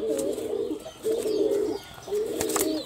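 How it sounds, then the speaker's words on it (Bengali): A pair of black-eyed Jag pigeons coo close by in three long, throaty rolling calls separated by short pauses, with faint chirps and light background noise in between. "কালো চোখের এক জোড়া জাগ কবুতর দেখাচ্ছি"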